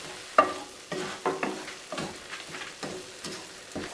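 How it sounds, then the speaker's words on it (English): Spatula scrapes and stirs through a tofu scramble with nutritional yeast in a pan, a series of soft, irregular strokes about every half second, close and fairly quiet, with no voices. "And then I just stir it in."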